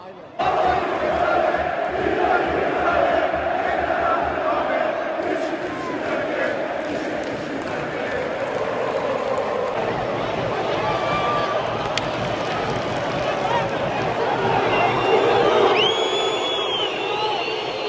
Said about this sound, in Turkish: Oğlum yönetim istifa tezahüratı artık eğlence haline gelmiş ya harbiden.